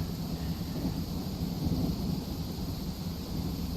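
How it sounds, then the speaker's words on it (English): A low, steady rumble of distant storm and wind in a video game, broadband and continuous with no distinct thunder cracks, holding at a constant moderate level throughout. "Sounds of the storms off in the distance."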